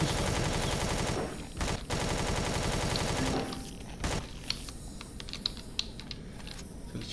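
Gunfire in the space game Empyrion rattles in a fast continuous burst for about three seconds, pauses briefly, resumes, then gives way to scattered softer clicks and impacts.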